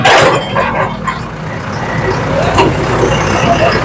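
A garbage truck pulls away to dump waste from a flooded river-dredging site, a loud, close engine rumble that fades slightly as it goes, with a dog barking and other traffic around it.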